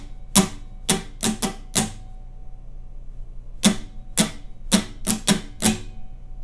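Guitar strummed in a down, down, down, up, down, up pattern: two bursts of six crisp strums each, separated by a short pause, played close and alone.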